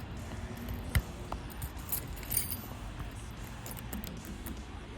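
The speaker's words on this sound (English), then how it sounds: "put one of the new keys in" A new key slides into a Kwikset smart lock to reset the pins, a faint metallic jingle and click near the start against a quiet room hum.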